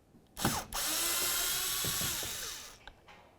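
Power screwdriver backing out a Phillips head screw from a 2002-2006 Honda CR-V door panel, a steady close whir of nearly two seconds bracketed by brief clicks, with no talking.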